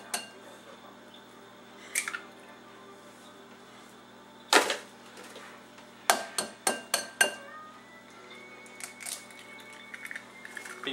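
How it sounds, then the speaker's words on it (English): A fork or whisk clinks against a bowl while beating two eggs with milk: scattered single taps, then a quick run of about five sharp clinks, close and fairly quiet, with no talking. "it says you need to beat 2 eggs, a tablespoon of milk"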